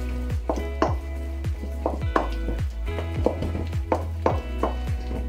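A spoon scrapes and knocks rhythmically in a bowl while savoury cake batter with olives is mixed, giving about a dozen regular strokes, close and clear, with no talking.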